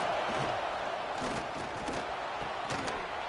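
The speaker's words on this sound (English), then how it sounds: "this crowd is fired up. Listen to this noise here." A fired-up stadium crowd in a college football video game gives off a steady, dense roar with a few swelling bursts, loud throughout.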